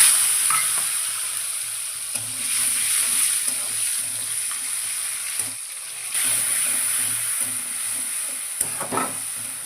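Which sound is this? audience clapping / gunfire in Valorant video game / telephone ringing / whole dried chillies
whole dried chillies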